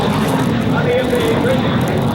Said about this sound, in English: there's your MiG 17.